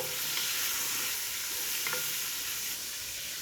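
Onion frying in a pan just after pork has been taken out, a steady broadband sizzle holding level throughout with a few faint stirring scrapes, no voices.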